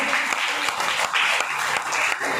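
Sustained applause from an audience at a children's prize announcement, a dense continuous patter of many hands clapping steadily throughout with no pauses.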